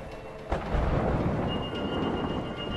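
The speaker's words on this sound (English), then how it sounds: "Let's time it with the thunder." A deep thunder rumble rolls through a stormy night scene in the video game A Way Out, swelling suddenly and then lingering as a loud, sustained roar over steady rain, with no voices.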